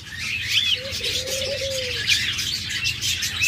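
Pet birds such as lovebirds, budgerigars and cockatiels chirp and tweet together in a busy chorus, with a drawn-out cooing note near the start, sounding close and continuous with no talk.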